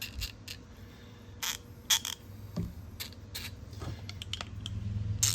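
Rapid clicking of an 80-tooth Snap-on ratchet wrench, irregular bursts of sharp ticks close by, with a brief clunk partway through.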